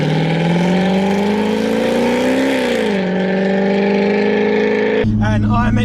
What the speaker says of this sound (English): So supercharged Camaro, 6 pounds of boost, about 550 horsepower to the wheels.